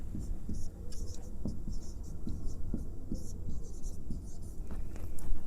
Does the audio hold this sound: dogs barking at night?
no